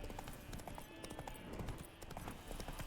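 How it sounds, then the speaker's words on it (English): Horse hooves clip-clop at a steady walking rhythm in the video game The Witcher 3: Wild Hunt, faint and continuous with quiet game ambience behind. "Spooking my horse."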